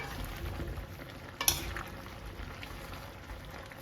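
Pinakbet vegetables with moringa pods are stirred in a pan, a soft low simmering bubble and quiet scraping with one sharp utensil clink, fairly faint.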